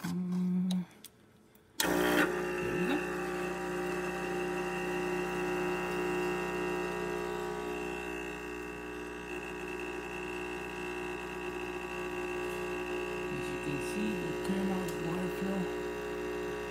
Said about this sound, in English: And now let's do the one shot of espresso.